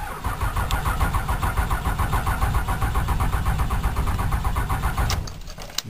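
A diesel truck engine cranks with a rapid rhythmic churning from the starter, loud and close, for about five seconds, then drops off abruptly as it catches.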